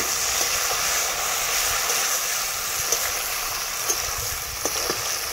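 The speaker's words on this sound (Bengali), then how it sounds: "টমেটোটা দেওয়ার পরে একটু নেড়ে চেড়ে নেব।" Tomatoes are stirred in a hot frying pan while cooking a pangas fish and eggplant dish, producing a steady loud sizzle with occasional soft clicks and scrapes of the spoon, close, without any talking.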